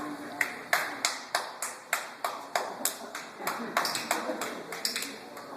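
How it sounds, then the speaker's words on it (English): About a dozen hand claps in a steady rhythm, sharp and close, with a faint murmur of voices in the background. "Clap your hands."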